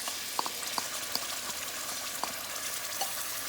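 Curry mixture cooks in a pot for Guyanese karhi, giving a steady soft sizzle and bubbling hiss with occasional small pops, close and continuous without talk.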